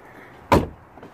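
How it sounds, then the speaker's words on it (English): A BMW or Mini car door is opened and shut once in a single loud, brief thump, followed by a faint whir that could be the frameless window shifting, over a low quiet background. "I can see the windows moving up and down when you open and close the door"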